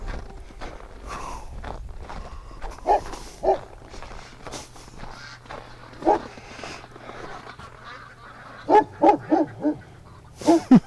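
Dog barking outdoors in winter near ducks, with scattered short barks and yips, some sharp and loud, spread across the recording among quieter shuffling and a faint voice.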